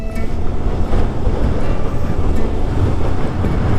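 Rushing water of Ataki Falls, a waterfall along Kennon Road near Baguio, roars as a loud, steady broadband wash with no pauses and no voices.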